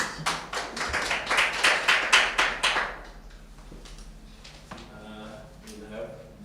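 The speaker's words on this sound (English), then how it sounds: "Okay, let's give them a round of applause." A conference audience applauds with a brisk burst of claps for about three seconds, then fades to a few scattered claps and room noise with faint talk in the background.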